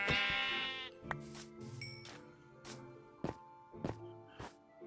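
A sheep bleats loudly and shakily in Minecraft, a single long cry at the start, followed by several sharp hitting thuds and short game tones.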